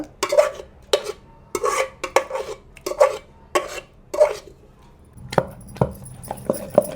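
Gongura leaves are added to a mortar and pounded for a village-style Andhra pickle: repeated close dull thuds and crushing scrapes in an uneven rhythm, with a busier clatter near the end and no talking.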